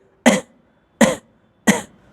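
Three short, sharp coughs, evenly spaced and close, with silence between each.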